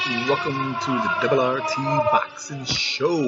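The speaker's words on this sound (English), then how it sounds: "The siren is going." A siren-like effect rises and falls beneath an announcer's voice at the start of a boxing show intro, the wailing tones running continuously under the talk.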